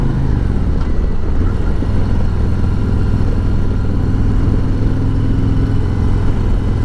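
A 2020 Harley-Davidson Road Glide Special engine idling, a steady, loud, low rumble that stays even throughout.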